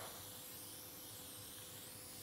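A WD-40 spray can releases a steady, unbroken hiss of spray onto a rusted chrome wheel, close and fairly quiet, with no talking.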